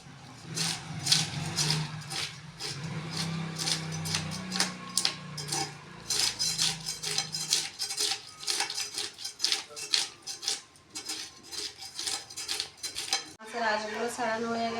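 A whole fish being scaled on a bonti blade in a home kitchen: fast, rhythmic scraping and metallic ticking repeating steadily for a long stretch, fairly close and loud, with a brief change near the end.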